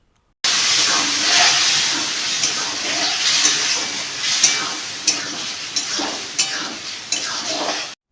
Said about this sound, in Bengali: মশলাটা ভাজা হয়ে আসলে সেই ঝিঙেটা এবার ওর মধ্যে দিয়ে দিতে হবে